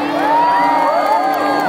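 Concert crowd at a Dewa 19 show in Kebumen cheering and shouting over sustained sung or whooping tones, a loud, dense wall of voices with no clear gaps.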